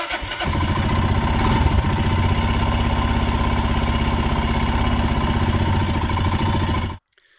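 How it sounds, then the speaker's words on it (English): A Royal Enfield Himalayan motorcycle with a starting problem fires up close by and settles into a loud, steady, even idle for several seconds, then cuts out abruptly. "that's probably the strongest start that bike has had in weeks, if not months"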